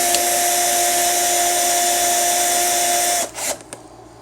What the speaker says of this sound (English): that's drilling that head of that bolt out larger